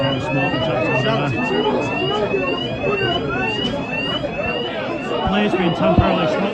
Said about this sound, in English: Fire alarm smoke detector there.